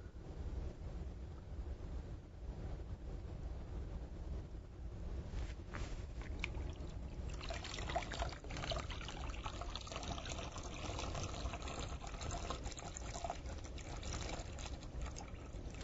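Water is poured from a bucket onto hydroponic grow blocks in an ebb and grow system, a steady faint trickling and splashing that continues throughout.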